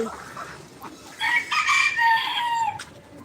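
Fayoumi chickens and native ducks in a yard, with a rooster crowing loudly and clearly nearby over faint background clucking, the crow sustained for over a second.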